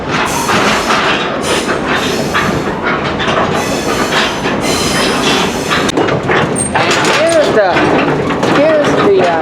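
A rickety 1950s train baggage car at a railway museum in the California desert rattles and clanks along the rails, with loud continuous clatter, squeals near the end and a voice talking over it.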